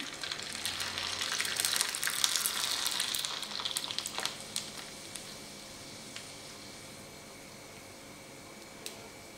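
Sago papad crisps fry in hot oil with a bright, steady sizzle that is loudest at first and then settles into a quieter, even hiss.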